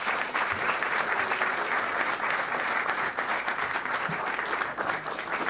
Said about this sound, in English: big round of applause for Randy Klepper